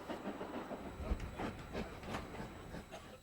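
A heritage steam train runs on the Weardale railway, giving a steady rumbling rail noise with faint clattering and hiss, heard at a moderate distance with no talk.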